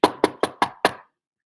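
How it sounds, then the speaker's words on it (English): Knocking on a door: five firm, evenly spaced raps, close and loud, with nothing else heard. "and they knock on the door again"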